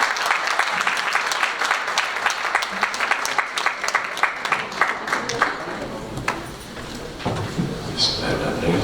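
Sustained applause from an audience at a guest speech fills the clip, dense clapping that dips briefly near the end before swelling again, with voices mixed in.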